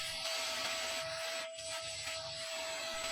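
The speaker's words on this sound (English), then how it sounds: "Next, he'll use sandblasting to strip the paint off these main parts and remove the rust." Steel grit sandblasting strips paint and rust from the main parts of a rusty 1975 Tonka truck, a continuous hissing, scouring blast with a brief dip midway, close and fairly quiet, no voices.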